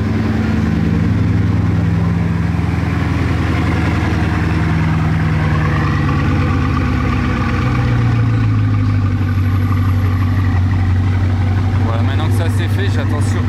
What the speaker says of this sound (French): il vient de démarrer la Chiron